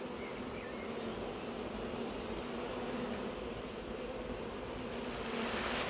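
A swarm of bees buzzes steadily around a cardboard box set on the ground, a faint, dense, continuous hum with no voices.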